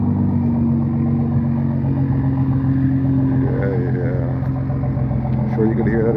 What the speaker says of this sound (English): Sure you can hear that exhaust.